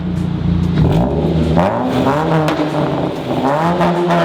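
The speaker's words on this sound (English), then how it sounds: "So it's a second cat delete and a muffler delete. Give me a little rev." A 2006 Mazda 3 sedan engine with second cat and muffler deleted revs loudly through the open exhaust, pitch rising and falling with a raspy, rumbling roar close to the listener.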